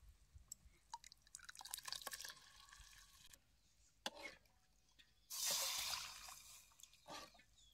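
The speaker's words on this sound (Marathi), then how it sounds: "आता ही आरावरची फोडणी त्या डाळीत ओतून घेतो" Quiet kitchen sounds with a few drips, then a short burst of hissing sizzle as hot tempering is poured into a pot of cooking lentils.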